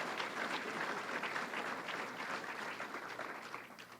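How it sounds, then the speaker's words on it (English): A state fair crowd applauds the opening of the 172nd New York State Fair, a steady wash of many hands clapping at a distance that fades slightly toward the end, with no voices over it. "That's worth a round of applause."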